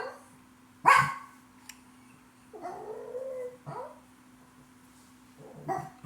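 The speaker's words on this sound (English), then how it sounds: "sorry about my little doggy." A small pet dog, a little female, gives a few short, sharp barks and whimpering yips in a quiet indoor room, spaced apart with pauses between them.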